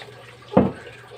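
Water poured from a container into a catfish pond, one brief splashing gush rising suddenly and fading within a fraction of a second over a quiet background.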